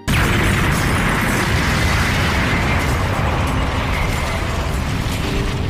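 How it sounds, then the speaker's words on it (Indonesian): A loud, sustained animated-series explosion roars without pause, dense rumbling mixed with crackling bursts and debris-like clatter. "Meledak tepat di area Bonnie dan Luffy berdiri"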